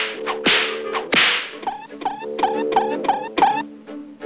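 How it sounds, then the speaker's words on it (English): Whip cracks in a Huckleberry Hound lion-tamer cartoon: two sharp snaps followed by a rapid series of lighter cracks and whooshes over a musical backing, close and loud, with no voices. "it looks like I gotta crack the whip on this critter"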